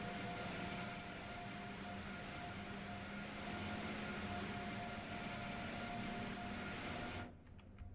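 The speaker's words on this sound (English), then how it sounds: "Oh, another train there. I think that's a New Jersey Transit train." A New Jersey Transit train rumbles past in Train Sim World 3 as a steady broadband roar with a faint tonal hum, then cuts off abruptly near the end.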